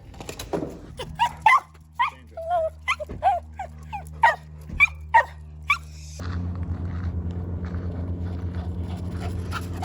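Several dogs bark, yip and whimper in a quick excited series close by, then the barking gives way to a steady rumbling hum, like a car interior, for the rest of the stretch.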